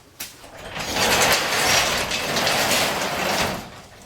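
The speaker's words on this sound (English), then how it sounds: "I'm going to open this door quick." A door swings open in a garage with a 454 engine stored for 20 years, giving a sustained scraping, rumbling slide that lasts a few seconds after a short knock at the start.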